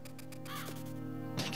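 A gang of crows caws repeatedly in Zelda: The Minish Cap, harsh game calls layered over a steady musical drone, ending in a louder burst, with no speech.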